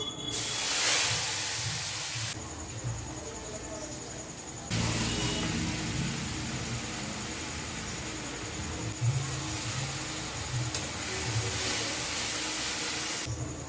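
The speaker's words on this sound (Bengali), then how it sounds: "এবার আমি মশলাটা দিয়ে দেবো এই পেস্ট করা মশলাটা" Ground spice paste hits hot oil already seasoned with asafoetida, whole garam masala and a bay leaf while cauliflower and potato curry is cooking. A loud, steady sizzling hiss runs throughout, with a sharper burst at the start.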